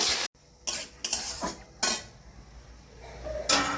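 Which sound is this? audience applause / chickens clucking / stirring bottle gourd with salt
stirring bottle gourd with salt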